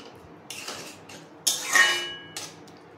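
Papaya chutney with cashews and raisins being stirred in a pan, a few metallic scrapes and clanks of a utensil against the pan, one ringing clang in the middle, on a quiet background with no voices.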